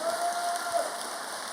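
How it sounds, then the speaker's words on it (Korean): Congregation in a large church sanctuary applauds after a youth praise-and-dance performance, a dense, even wash of many hands clapping continuously, steady and moderately loud throughout. "다시 한번 크게 한번 격려 박수 해주세요"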